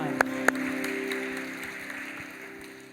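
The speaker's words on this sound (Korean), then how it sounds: "감사의 박수 올려드립니다." A church congregation at a Thanksgiving Sunday youth service gives a round of applause, a steady wash of clapping with a couple of sharp claps at the start, slowly fading under a low hum.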